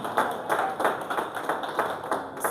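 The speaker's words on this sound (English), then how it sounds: "Let's clap for them." Audience clapping at a product training session, steady rhythmic claps at moderate volume in a roomy space, lasting a couple of seconds with no talk over it.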